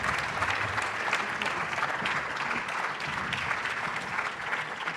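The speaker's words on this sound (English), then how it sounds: "Yes, give them applause" Audience applause greeting speakers as they come onto the stage at a political event in Berlin, a steady, dense clapping of a sizeable crowd that holds evenly through the whole stretch with no talk over it.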